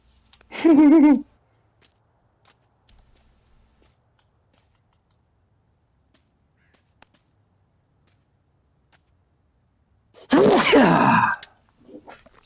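Two separate loud sneezes, one near the start and another about nine seconds later, each short and sharp, with near silence between them.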